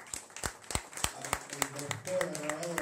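A small bar audience claps for a musician, sparse distinct hand claps in a loose rhythm with talking and a sustained tone joining over the latter half.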